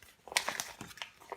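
A paper instruction manual from a Fenix BC21R flashlight box is unfolded, giving quiet, close crinkling and crackling with several sharp rustles over about a second, with no voices.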